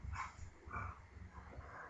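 A dog plays a short distance away, giving a few soft yips and bark-like bursts over a low, steady background rumble. The sounds are faint and spaced out across the short stretch.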